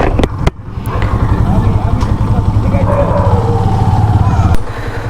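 A Yamaha FZS Version 2 motorcycle engine catches after a couple of clicks and settles into a loud, steady idle close by.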